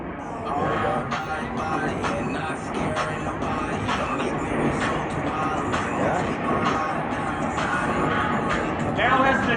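Aerobatic formation jets fly past at an air show at Sonoma Raceway, a broad rumbling roar that builds toward the end. Crowd noise and a public-address commentator are heard over it.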